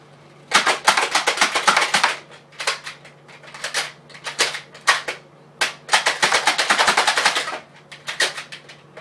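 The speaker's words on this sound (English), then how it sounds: "Now, that was 12 bullets that came out of one gun." A Nerf Flip Fury toy blaster fires foam darts in rapid bursts, loud close clattering volleys of quick cracking shots with brief pauses between bursts, twelve darts in all, with no talk.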